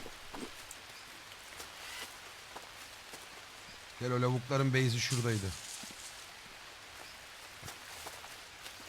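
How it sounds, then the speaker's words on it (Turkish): Rain falls steadily in the jungle of the survival game Green Hell, a soft continuous patter with scattered drops, briefly interrupted by someone speaking midway. "yağmurun sık yağması güzel de"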